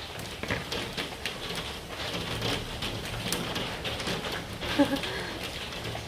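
Dense, heavy pattering and rattling as large hailstones strike a window in heavy rain, a continuous close drumming with occasional sharper knocks.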